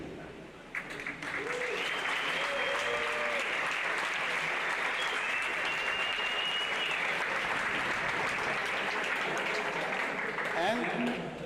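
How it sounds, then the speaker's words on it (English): An audience at an underwater rugby junior championship event in Sandefjord claps for the teams, dense sustained applause, loud and even, with a few cheers and whistles rising over it. "So, a big applause to the teams."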